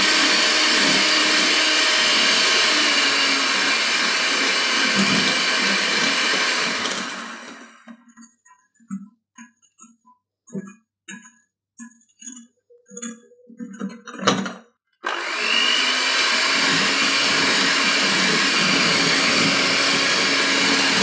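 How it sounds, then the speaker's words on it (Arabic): Eggs are beaten into mango cake batter with an electric mixer, whose loud, steady whine runs for several seconds, stops for a stretch of faint clinks, and then starts again. "أضيف البيض وأضربه لحد ما الخليط يبقى كريمي."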